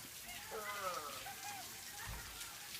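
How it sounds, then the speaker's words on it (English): Rain patters steadily outside an open door on a cloudy day, heard faintly from indoors while a person speaks quietly over it. "So it's raining outside."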